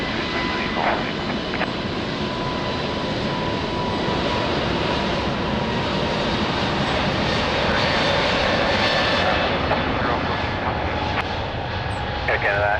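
An Airbus A320neo rolling for takeoff at Lisbon Airport, its jet engines giving a steady, loud, broad roar that holds throughout with no pauses, and radio voices faintly audible beneath.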